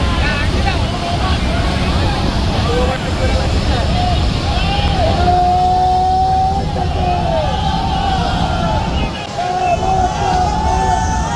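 The passenger launch Prince Raihan 1 rumbles along the river as it overtakes another launch, a continuous low engine drone with wind noise and water wash, a rising whistle-like tone partway through, and voices chattering over it.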